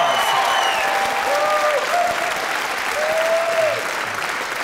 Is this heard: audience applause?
yes